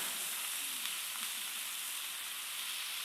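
Garlic sizzling as it hits a hot pan for penne with prosciutto, peas and leeks, a steady bright hiss of frying with faint crackles, continuous and alone.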